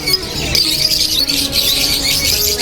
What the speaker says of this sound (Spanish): Periquitos, qué bonitos, mirad. ¡Hala, los loros!